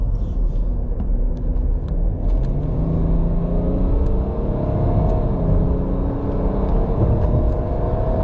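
A BMW N57 3.0-litre diesel engine idling and being revved gently, heard close up as a steady, heavy rumble with slowly rising and falling engine tones and no talking over it.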